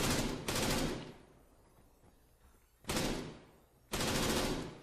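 A Zafir 7.62mm machine gun in Arma 3 fires three sustained, loud bursts: one long burst at the start, a second after a pause and a third close behind it, each a dense roar of rapid shots.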